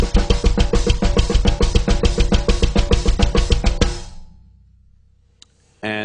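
A faster Swiss triplet blast beat with kick drum under hi-hat and snare, a dense driving run of rapid hits lasting about four seconds, then decaying to near silence before a brief late burst.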